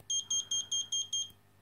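An OLEDiUNO Cube Clock alarm buzzer sounds six quick, evenly spaced high-pitched beeps, clear and close, then stops.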